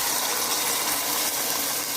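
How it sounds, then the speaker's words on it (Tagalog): Water is poured into a pot holding a whole chicken that will be boiled before frying, giving a steady close-up gushing hiss that lasts the full two seconds with no talking. "Ngayon, lagyan na natin ng tubig"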